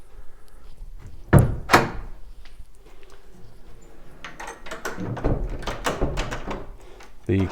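An antique painted pine wardrobe door is pushed shut with a couple of loud wooden thunks, followed by a series of softer knocks and clicks, apparently from the lock and drawers being worked nearby.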